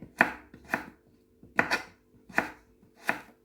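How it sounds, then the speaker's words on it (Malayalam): Knife chops through elephant foot yam on a board in five sharp, evenly spaced strikes, some landing as quick doubled cuts, close and clear with no talking. "ചേനയൊക്കെ ഇങ്ങനെ ഒന്ന് അരിഞ്ഞെടുക്കാം"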